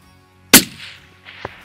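One sharp, loud crack from a 6mm rifle fired at a wallaby in the New Zealand hills, with a rolling echo after it and a faint distant thump about a second later.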